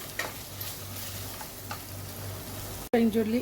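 Ginger garlic paste and onion fry in a pan for chicken haleem, a soft steady sizzle with light stirring, before a voice briefly speaks at the end.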